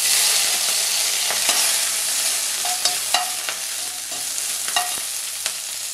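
Mustard seeds crackle and pop in hot oil over a steady sizzle, with scattered sharp snaps close by; no voices.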